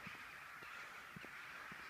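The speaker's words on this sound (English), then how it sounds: "Those are crows." Crows caw outdoors a few times in a short burst, faint and distant over a steady background hiss, with no talking.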